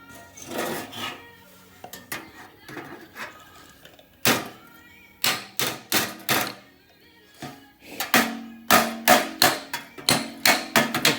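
Sharp hammer taps on metal, using one hammer against another, on a 1934 coupe, scattered at first and then in quick bursts of several strikes, close and fairly loud.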